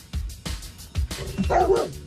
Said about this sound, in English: But it's dog detective Quantum who's leading man tonight.